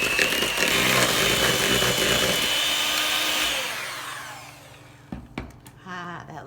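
An electric hand mixer whirs loudly and steadily while beating cookie batter of egg and vanilla for s'mores cookie cups, then cuts off, leaving a few faint clinks and quiet kitchen sounds.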